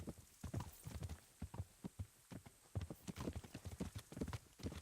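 Horse hooves clip-clop steadily as a rider travels down a road in Kingdom Come: Deliverance, with a rhythmic, close trot and faint background hum.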